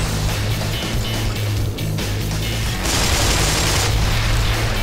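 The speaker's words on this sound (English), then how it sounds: "They chucked a grenade at me!" Grenade explosions and bursts of gunfire rattle through a firefight in the video game Black Mesa, a dense, loud, continuous barrage with heavy low booms and no pauses.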